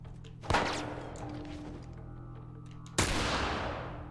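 Two loud, sharp gunshots in The Last of Us video game, about two and a half seconds apart, each with a booming decay, over a low electronic hum.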